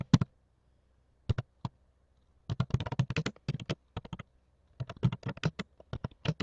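Computer keyboard keys clatter in short irregular bursts while a chart title is typed into an Excel spreadsheet. The clicks are close and crisp, with quiet pauses between the runs of typing.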